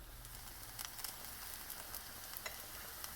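Battered zucchini flowers fry in hot oil with a steady, close sizzle and crackle, small pops scattered through it and no voices.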